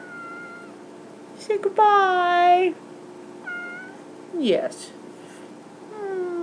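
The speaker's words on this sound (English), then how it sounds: "She's a good kitten." A kitten meows a few times indoors, with one long drawn-out cry and a couple of shorter mews spaced between them, close to the microphone, while someone talks to it and says farewells.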